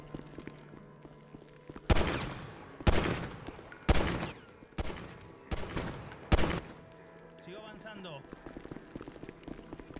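Several loud bursts of rapid gunfire in quick succession with brief gaps, game-style shooting over low background noise and occasional voice.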